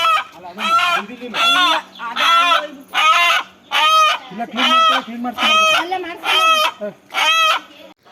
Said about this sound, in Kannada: ಇದೇ ನೋಡಿ ಆ ಕೋಳಿ, ನಮ್ಮ ನಯ್ಯಂತಿದ್ದ ಕೋಳಿ